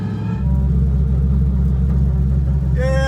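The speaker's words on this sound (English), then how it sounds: "The best part of this car is you can hear it way before it gets here." A loud car approaches at an auto meet, its engine a deep, steady rumble building as it nears, with a brief burst of voices at the very end.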